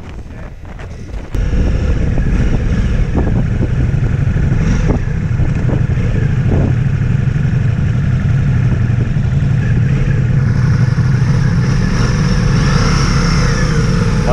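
Ducati Multistrada V4S motorcycle on knobby tyres ridden along a road in Queensland, Australia, with a steady engine drone buried under heavy wind buffeting, continuous and loud throughout after a brief quieter start.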